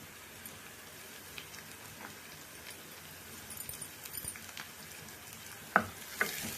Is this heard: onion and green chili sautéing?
yes